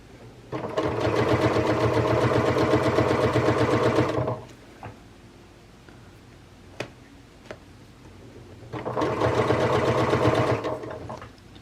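A sewing machine stitches webbing onto a fabric donut dog toy in two steady, loud runs, each lasting about four seconds, separated by a quiet pause filled with a few small clicks.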